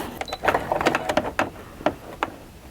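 Home sewing machine stitching a zip top bag with many pockets, an irregular run of short mechanical clatters and whirs with small pauses as the fabric is guided, close and moderately loud.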